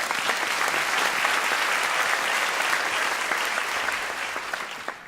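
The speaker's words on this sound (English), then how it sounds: "So give yourselves a round of applause." Sustained applause from an audience of educators at a 2014 Charleston symposium talk, dense and even clapping throughout, fading slightly at the end.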